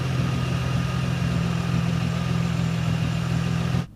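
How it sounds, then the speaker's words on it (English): A Nissan 350Z's VQ35DE V6 idles after an oil cooler O-ring repair, a steady close rumble with an even low hum that holds for a few seconds and then cuts off abruptly. "we're going to go ahead and turn on the vehicle and see if this fixed our oil leak"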